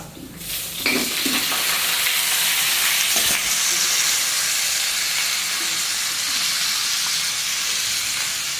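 Garlic stir-fried in a pan erupts into a loud, hissing sizzle that holds steady, with a few scraping stirs early on and no voices.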